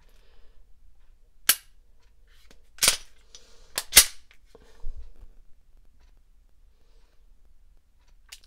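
Several sharp, isolated dry-fire trigger clicks from a Ruger EC9S pistol, spaced a second or so apart in a quiet room, close and crisp with faint handling noise between.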